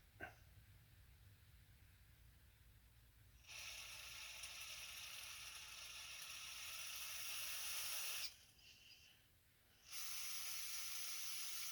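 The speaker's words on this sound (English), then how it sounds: "I'm going to try to squirt some carb cleaner through it." Carb cleaner is sprayed through the parts of a Kamplite IL-1 inverted lantern during a teardown: after a faint click, a steady close hiss runs for several seconds, stops briefly, then resumes.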